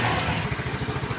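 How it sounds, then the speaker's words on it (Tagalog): A Yamaha Mio Soul 115 fuel-injected motorcycle engine running after a battery jump, a steady close, pulsing idle chug. "umaandar na yung ating makina"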